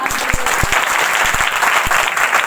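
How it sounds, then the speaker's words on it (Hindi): A congregation claps loudly at a live prayer meeting, close and continuous, with several sharp individual claps standing out from the dense applause. "ताली बजाइए।"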